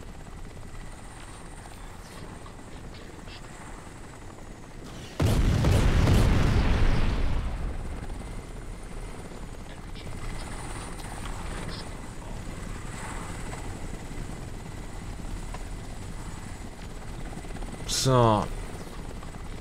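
A helicopter drones steadily through the Crysis game with a heavy rotor hum. It swells into a loud, roaring blast for a couple of seconds, then settles back, and people talk over it now and then.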